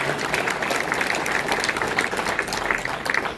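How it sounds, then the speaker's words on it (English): Event audience applauding sponsors, a dense, even wash of clapping from a crowd that holds steady throughout. "give a round of applause to them real fast"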